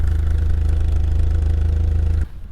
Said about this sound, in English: Sounds pretty sporty, but it's mainly because the muffler is rotted out.